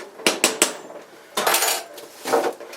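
A utensil stirs potatoes boiling in a pot on a stove, giving sharp metallic clinks and scrapes in a quick cluster, then two longer scraping passes, close and moderately loud, with no talk.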